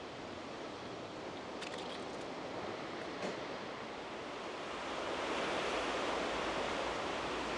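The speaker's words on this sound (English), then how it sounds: "This waterfall really doesn't take that long to get to." A waterfall on Jeju island roars as a broad, steady wash of falling water that swells louder midway, with no voices.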